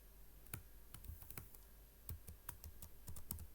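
Typing on a computer keyboard, a quiet run of irregular close key clicks and taps in small bursts with short pauses, no talking.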